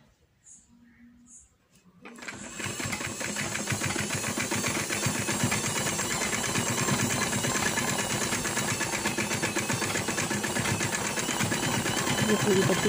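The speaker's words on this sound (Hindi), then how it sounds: "ये पूरी पट्टी को इसे सिलाई लगा देनी है।" A sewing machine stitches a strip onto trousers, starting after a brief quiet moment and then running in a loud, steady mechanical whir with rapid needle rhythm until the end.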